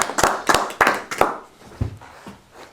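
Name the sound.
applause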